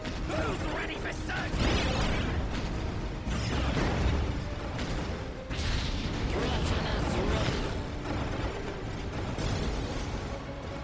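Turrets firing during a Titanam Wars mod battle in a massive Ork-on-Ork fight, with dense continuous booming, mechanical clatter and bursts of artillery-like explosions, loud and sustained throughout.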